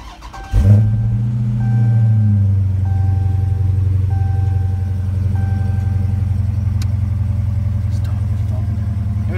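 A 2018 Dodge Charger R/T Scat Pack fires up via push-button start with a sharp burst, then settles into a loud, deep, steady V8 idle rumble close by, with faint background sounds.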